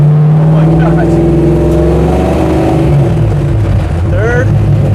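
Loud 1968 Dodge Charger V8 engine accelerating and shifting through the gears, a steady roar whose pitch climbs and drops at each shift, with excited voices talking over it.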